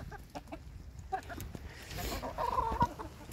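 Hens in an outdoor coop give a few soft, scattered clucks and short calls, fairly near but quiet, with faint background noise and no talking.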